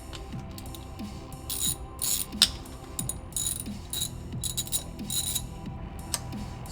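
A ratchet loosens the bolts of a rear diff plate on a racing car, a close run of sharp clicking pawl strokes in a steady back-and-forth rhythm, no voices.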